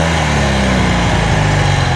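A vintage motorcycle engine runs loud and close, its low exhaust drone rising and wavering as it revs to clear the exhaust, steady throughout with no talk over it.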